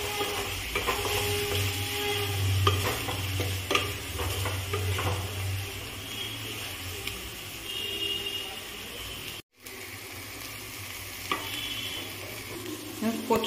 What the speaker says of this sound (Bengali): ভেজে রাখা চিংড়ি মাছটা এবার আমি এর মধ্যে দিয়ে দিলাম। এটা দিয়ে একটু নাড়াচাড়া করবো।